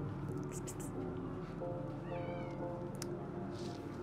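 Cats meow inside a cat cafe, several high mewing calls rising and falling over a steady murmur of room noise and faint voices.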